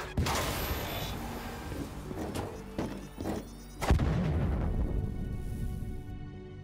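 A heavy boom bursts out amid a chaotic run of thuds, crashes and gunfire-like blasts, then rumbling debris fades away, from the Call of Duty: Black Ops III campaign on PS4.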